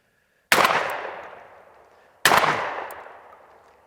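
Two loud Mossberg 940 Pro semi-automatic waterfowl shotgun shots fired at an outdoor range, each a sharp blast with a long ringing decay, about 1.7 seconds apart, with a third shot starting right at the end.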